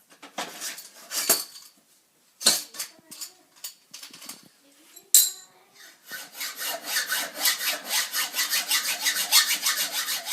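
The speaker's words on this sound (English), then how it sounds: "Make sure you also cut 10 centimeters off the handlebar" A scooter handlebar being sawn to shorten it: a few irregular scraping strokes and pauses, then a steady rhythmic back-and-forth rasp of the saw, close and fairly loud.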